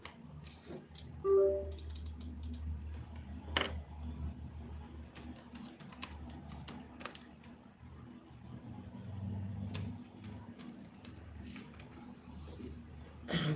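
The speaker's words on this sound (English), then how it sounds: "Type in being human, Aiden." Someone types on a computer keyboard in scattered quick clicks over about thirteen seconds, with light background noise and a soft low rumble underneath.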